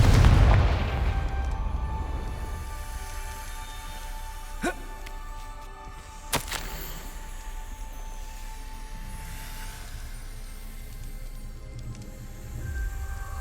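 Confringo blasting spell in Hogwarts Legacy, two sharp explosive bursts a couple of seconds apart over a low, rumbling game ambience.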